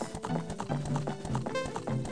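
Horse hooves clip-clopping at a quick pace in the video game Zelda: Ocarina of Time, close and steady over game music, with a brief whinny-like tone near the end.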